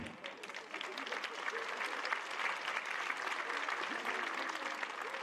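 An audience applauds steadily and fairly densely, a sustained wash of clapping from many hands that holds throughout without pause.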